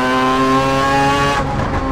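A Mazda prototype race car's rotary engine accelerating on track, heard from inside the cockpit: a loud, screaming, buzzy engine note holding steady, then a sudden drop as the revs break near the end.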